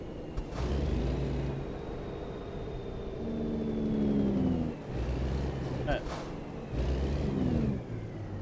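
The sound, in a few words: passing road traffic in the video game American Truck Simulator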